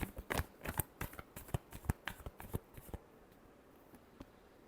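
A deck of tarot cards is shuffled for a reading, giving a quick series of crisp riffling flicks up close for about three seconds, then a few faint taps as the shuffling stops.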